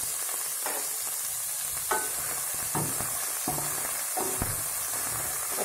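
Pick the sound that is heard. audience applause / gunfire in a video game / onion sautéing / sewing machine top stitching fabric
onion sautéing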